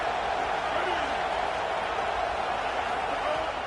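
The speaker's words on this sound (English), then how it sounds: "These fans are going absolutely nuts." Football stadium crowd roaring, a dense, steady wall of loud cheering noise sustained throughout, with no clear breaks.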